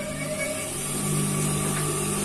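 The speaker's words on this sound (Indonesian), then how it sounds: "Langsung saja akan saya hidupkan untuk mesin jahitnya." A used home sewing machine switched on and running, giving a steady motor hum with a faint whine that holds evenly and alone, with no talking.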